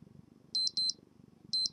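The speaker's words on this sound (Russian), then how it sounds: "вот мы слышим, работает будильник" An Invicta 12469 wristwatch alarm beeps in quick high-pitched pairs, two double-beep bursts separated by a pause, over a faint low background murmur.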